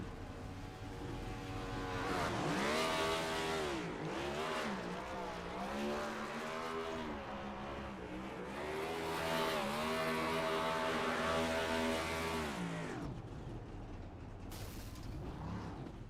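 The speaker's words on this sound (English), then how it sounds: "good to know these cars can still do a good burnout once in a while" A Next Gen Cup race car in a racing video game does a burnout, its engine revving and wailing in rising and falling sweeps over a steady tire squeal, loud and continuous throughout.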